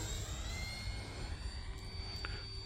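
An E-flite Viper 70mm electric ducted-fan RC jet passes over a runway on a sunny day, a steady whooshing whine held at a moderate distance throughout, with a faint pitch change late in the pass.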